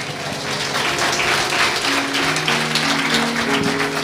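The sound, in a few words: congregation applauding in church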